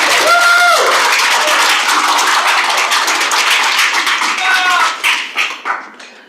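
Graduation audience for the ANTHC leadership development programs gives dense, sustained applause with a few whoops mixed in, holding steady before trailing off in uneven bursts near the end.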